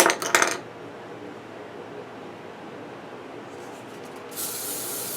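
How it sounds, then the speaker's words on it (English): Some clattering handling noise, a quiet pause, then a spray bottle spritzing a section of hair with short bursts of hissing mist close by. "I'm going to first of all take this section, spray it a little bit"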